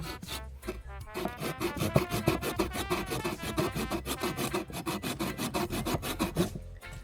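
A Conifer Cone Butterfly folding saw cutting through wood outdoors for camp firewood, giving a loud, close, fast rhythmic rasp of back-and-forth strokes that runs steadily for several seconds before stopping.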